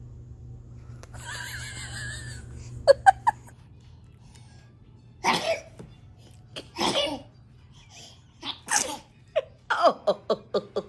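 Baby sneezing: small sharp bursts in a quick cluster, then several more close sneeze-like puffs and a rapid string at the end, set over a quiet low hum with some babbling.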